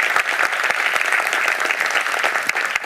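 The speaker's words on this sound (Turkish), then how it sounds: "bir alkış alalım Müzeyyen Hanım için" A TV studio audience on a Turkish music show claps for a singer, a loud, dense and even wash of many hands, sustained without a break and alone, with a few sharper claps standing out.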